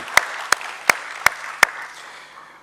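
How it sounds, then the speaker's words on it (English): Audience at a stock exchange listing ceremony for SP Apparels Ltd claps for an honoree: five sharp, evenly spaced claps ring out over a low room hum, then fade away with no talking. "Ladies and gentlemen, a huge round of applause, Mr. P. Sundararajan."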